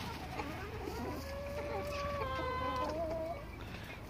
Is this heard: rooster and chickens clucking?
yes